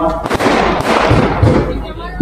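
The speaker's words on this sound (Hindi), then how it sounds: "ये पटाखे फोड़ना बंद कर दें दोस्तों।" Firecrackers burst in loud rapid cracks and booms at an outdoor Congress election campaign rally in Solapur, a dense crackling volley that fills the short clip with crowd noise beneath.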